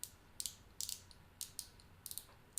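A plastic fidget cube is twisted and clicked by hand, giving a quiet run of crisp ratcheting clicks in short irregular bursts, close up with no talking.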